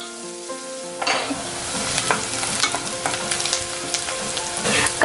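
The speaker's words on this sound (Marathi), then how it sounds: "आता यामध्ये मी कापलेला कांदा ऍड करते।" Chopped onion sizzles steadily in hot oil with fried mustard seeds and cumin, stirred by a utensil that makes repeated scraping clicks against the pan; close and continuous once the onion goes in after a quiet start.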